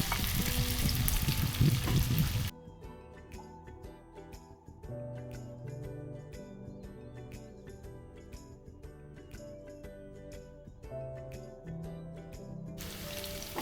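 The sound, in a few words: cauliflower frying in hot oil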